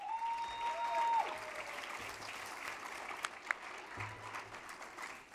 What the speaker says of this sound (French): Ben oui, on peut applaudir.